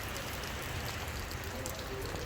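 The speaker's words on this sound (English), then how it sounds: "Going out into the wet rain." Steady rain falling outdoors, a dense, even hiss of drops on surfaces close by, continuous throughout with no talking.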